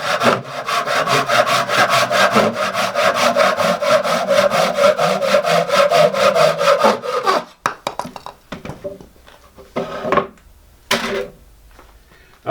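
A Japanese-style pull saw cuts through wood in quick, rhythmic strokes for several seconds, then the rasping stops and scattered handling knocks follow.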